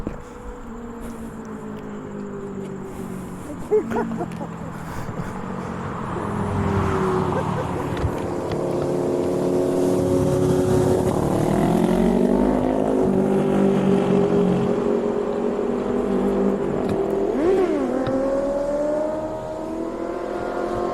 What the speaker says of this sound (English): Ooh, bike's coming.